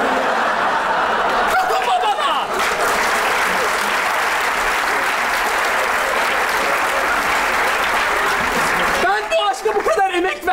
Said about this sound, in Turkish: Bravo, bak seni alkışlıyorum